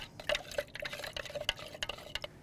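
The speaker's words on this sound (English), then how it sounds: "And we're just going to dissolve that into the water." A spoon stirs potassium carbonate into water in a bowl while making ramen noodles from scratch, producing quick, close, irregular clinks and scrapes with light liquid swishing.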